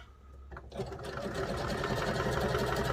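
A sewing machine starts up and runs steadily, a rapid mechanical whir and clatter of stitching that continues close and fairly loud without pause.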